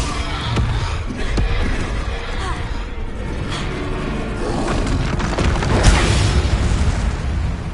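Bombarda spell blasts in Hogwarts Legacy, punchy booms and bursts amid game combat noise, with a voice calling out over the impacts.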